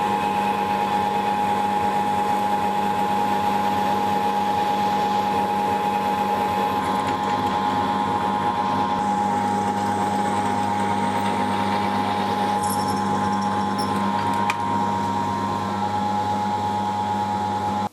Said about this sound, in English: need to drill it out.